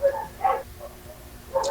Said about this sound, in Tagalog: Mga aso ko sa kalsada yun.